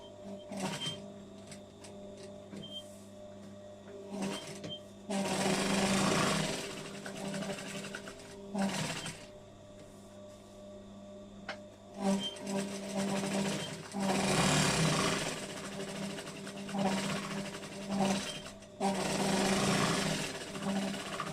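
A sewing machine stitches a quilt seam for an An Grianan quilt, running in steady bursts with short pauses between, close and fairly loud, with a few tiny back-and-forth double stitches at the seam ends.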